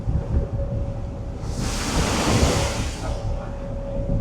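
Big waves breaking at the Sydney Harbour heads, heard from a ferry crossing the harbour entrance: a rising, hissing surge of water over constant wind and engine rumble, swelling then fading after a couple of seconds.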